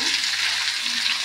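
Chopped garlic frying in a pan, giving a steady hissing sizzle that stays close and even throughout, with no other sounds or voices.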